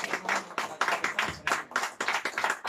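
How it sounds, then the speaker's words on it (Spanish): A crowd at a mariachi birthday celebration claps in short rhythmic bursts, several quick rounds of applause close and fairly loud. "El aplauso fuerte."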